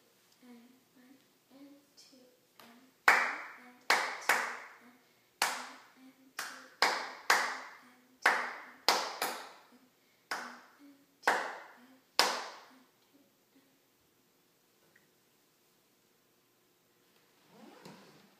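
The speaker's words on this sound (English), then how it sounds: "Please clap this piece." A single pair of hands claps out the rhythm of a grade 5 piano exam piece, crisp close claps in an uneven pattern with a few soft taps first and a pause before a faint final pair.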